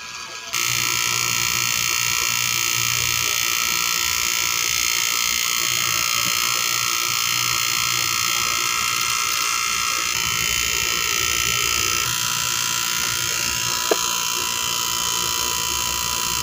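A vacuum pump runs on a job with a pressure gauge attached, giving a loud, steady mechanical drone that starts about half a second in and continues unbroken to the end, with no talking.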